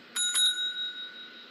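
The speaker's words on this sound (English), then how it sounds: "Whenever you hear that friendly little bell, it's musical number time" A friendly little bell rings twice in quick succession, bright and close, then its ring fades away alone.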